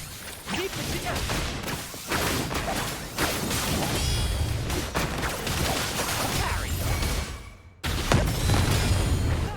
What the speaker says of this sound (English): And we get some big booms from Brant.